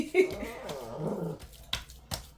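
A dog growls low inside a house, a short rumbling snarl under some household background noise, with a couple of sharp knocks near the end.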